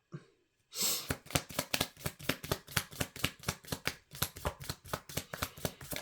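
Tarot cards are shuffled close up in a quick, steady riffle of repeated papery flicks, continuing without pause after a brief silence.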